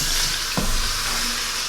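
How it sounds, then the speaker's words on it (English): Chuck roast searing in hot oil in a pressure cooker pot, a steady loud sizzle with a brief burst as the meat goes in. "once that starts sizzling, we'll go ahead and throw the meat in"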